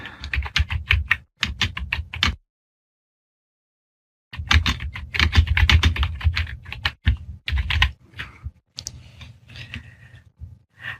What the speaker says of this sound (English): And then you can just simply type away.